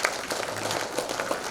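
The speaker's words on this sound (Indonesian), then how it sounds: "Tepuk tangan kepada BP2 PMI." An audience at a government coordination meeting gives a short burst of moderate, steady applause, slightly distant in a large room.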